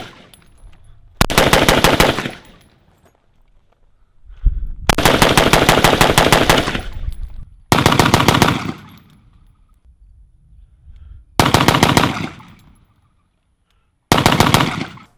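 A Desert Tech MDR bullpup rifle fired at a range in five loud bursts of rapid shots, each about one to three seconds long, separated by quiet pauses with no talking.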